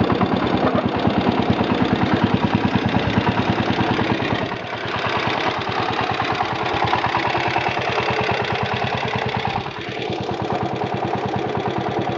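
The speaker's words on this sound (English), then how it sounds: "So I idled on down a little bit and put it in granny load." A 1966 John Deere 110 lawn tractor engine idles at low speed with a steady, rapid chugging pulse, loud and close, dipping slightly in level twice as it runs on alone without any voices.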